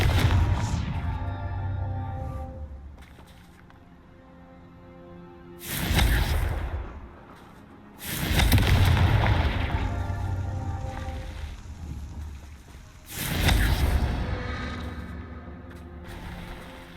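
Confringo fire spell explosions in the Hogwarts Legacy video game, three heavy booming blasts spaced a few seconds apart over a rumbling ambient backdrop.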